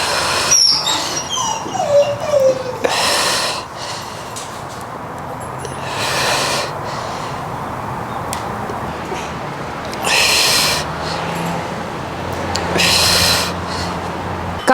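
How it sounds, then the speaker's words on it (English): A dog barks excitedly in the background, repeated bursts of barking and yips separated by quieter gaps, fairly distant and moderately loud. "in the background you will hear my dog going crazy"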